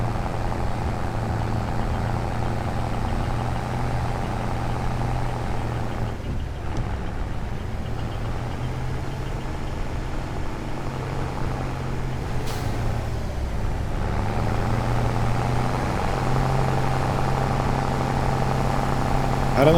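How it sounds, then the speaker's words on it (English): A heavy piece of equipment's engine runs steadily throughout, a loud, continuous droning rumble with a slight shift in tone partway through and no talking. "the sound of this engine reminds me of the sound of Jake brake"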